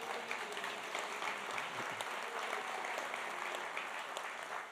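Steady applause from an audience honoring George Kuntz, a former player, at an NFL Draft event with Roger Goodell and Mark Murphy, a dense even wash of clapping at moderate distance sustained for the whole stretch.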